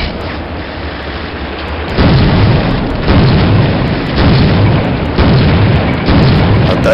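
Grenade explosions in the shooter game Soldier of Fortune land as a series of loud, heavy booms, about one each second after a sudden start, with deep rumbling that fills the gaps.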